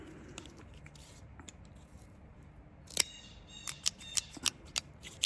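Scissors snip through the packaging on a Jim Beam Devil's Cut Kentucky straight bourbon bottle, a string of sharp, close clicks and cuts that quicken toward the end after quieter handling noises.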